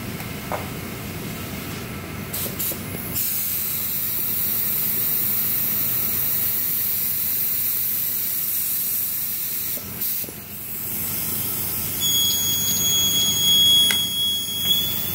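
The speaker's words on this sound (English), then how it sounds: "now we'll spray our activator" Hydrographics film activator sprayed from a spray gun in a workshop, a steady close hiss in long bursts with brief pauses, and a thin high electronic whine joining near the end.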